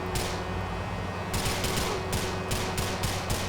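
Gunfire in GTA IV crackles in several quick bursts over a steady hum of game background noise, clustered toward the end.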